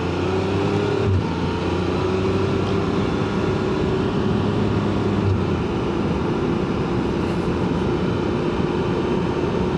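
A 2024 Can-Am Spyder RT Limited three-wheeled motorcycle engine drones loudly and steadily close up, pitching up as it accelerates along the road.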